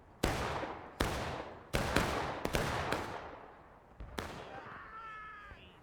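Artillery fire in a large War of Rights battle, a Civil War-era multiplayer game on Nicodemus Hill: five or six loud, sharp booms come at irregular intervals, each trailing off in a long rumbling echo, with a faint whining tone near the end.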